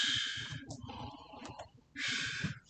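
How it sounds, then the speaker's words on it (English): A person snoring in a few loud, rasping breaths, with short quiet gaps between the snorts. "Stop snoring!"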